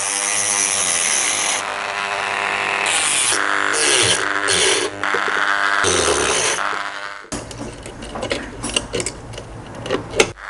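A grinder and a drill used on porcelain during restoration work, a continuous high whine shifting in pitch for several seconds, then rougher scraping and grinding bursts, close and loud with no talk.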